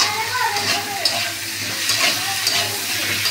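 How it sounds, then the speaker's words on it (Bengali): Potatoes and onions frying together in oil in a pan, a loud continuous sizzle with steady stirring and scraping throughout, close by and alone without talk. "আলু পেঁয়াজ একসঙ্গে আমার ভাজা হয়ে যাবে।"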